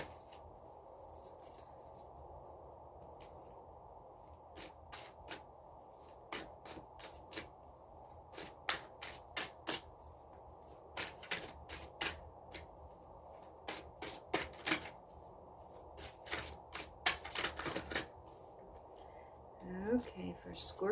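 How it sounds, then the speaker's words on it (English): Tarot cards being ruffle shuffled, with a run of crisp, rapid riffling clicks and flutters that grows denser and louder toward the end, heard close over a steady low background hiss and faint talk. "We just do a couple of ruffle shuffles."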